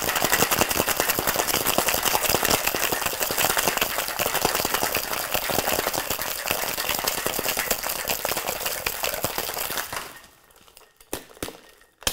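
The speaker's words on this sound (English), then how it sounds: "Lock our tin and shake." A metal shaker tin holding ice and a Paper Plane cocktail shaken hard, rattling in a fast dense rhythm close by for about ten seconds, then stopping with a few clinks.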